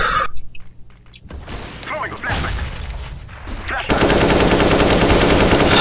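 Gunfire from the video game CS:GO: scattered shots and thuds early on, then a loud, sustained automatic burst rattling continuously to the end, with muffled player voices in the background.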